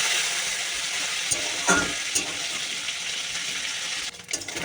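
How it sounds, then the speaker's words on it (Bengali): Fish frying in oil in a wok, a steady bright sizzle and crackle with brief louder spits and splatters, close and continuous with no talk. "মাছটা ভাজবো। বাবারে ছিটছে, কি বিরক্তি লাগে ছিটকে পরে।"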